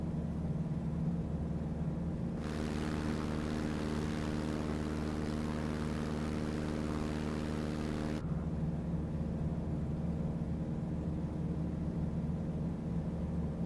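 A T-6 Texan propeller engine at full throttle in MSFS 2024 drones steadily, its buzzing roar swelling in the middle stretch before settling back to a lower hum, with no talking.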